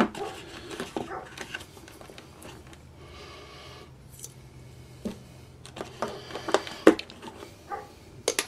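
A dog gives several short barks and snorts at moderate distance, scattered across the stretch with quieter gaps between.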